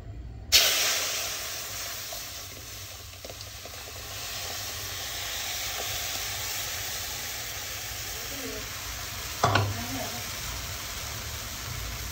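Dal mixture poured into a hot pan, breaking into a loud hissing sizzle that holds steady for several seconds, with a clatter of utensils partway through and a voice speaking over it.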